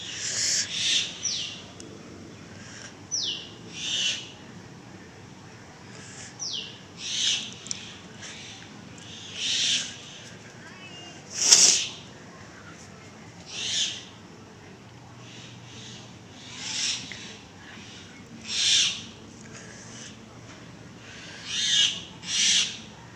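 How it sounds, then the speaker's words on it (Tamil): Myna birds call repeatedly from trees, sharp bright shrieks and chattering notes coming in spaced bursts every couple of seconds over a quiet outdoor background, some louder and nearer, others softer. "பாருங்கள் மைனா கத்திக்கிட்டு இருக்குது"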